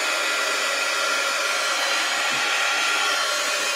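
A hair dryer runs steadily at close range, drying a freshly glued gluebook art journal page; a continuous broadband whoosh with no break and no talk.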